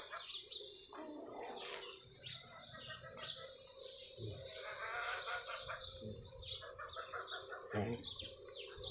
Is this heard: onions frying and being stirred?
no